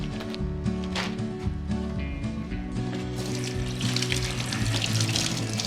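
Running tap water while cilantro is rinsed under it in a home kitchen sink, a steady broadband splash with shifting spatter, close and alone, a continuous hum running underneath.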